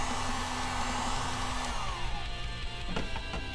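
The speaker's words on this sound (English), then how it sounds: "take your heat gun, just go ahead and heat around it" A heat gun blows a steady, loud airflow hiss while warming car wrap vinyl on a 2019 Hyundai Veloster N, running continuously with no voices.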